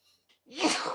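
A single sharp sneeze bursts out after two faint intakes of breath, loud and close, lasting about half a second.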